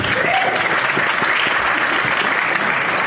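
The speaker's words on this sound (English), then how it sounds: "That's worth the applause, isn't it?" Audience applause at a sci-fi convention in Malmö, a dense, steady wash of clapping from a sizeable crowd that holds at an even level for about three seconds.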